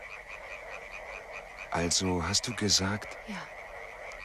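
Frogs croak loudly in rapid, rhythmic bursts in backwater ponds, a staged radio-play sound effect; a voice speaks briefly over the quieter chorus before the croaking swells.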